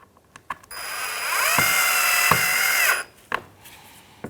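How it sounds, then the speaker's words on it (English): A power driver whirs steadily for a couple of seconds, sinking a Phillips screw through plastic into the front bumper of a 2003-2011 Honda Element, with clicks and handling knocks before and after. "we're going to put in 2 Phillips screws, one on each side"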